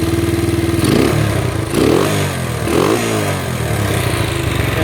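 Honda XL125 motorcycle engine running again after 33 years sitting in a barn, with a freshly tightened timing chain, a close, loud, clattering idle that blips up in three quick revs before settling back.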